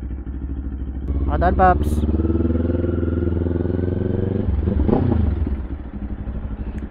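Kawasaki Z500 motorcycle with an aftermarket exhaust: a low, steady engine rumble idling nearby under a voice, with a brief rise in revs midway.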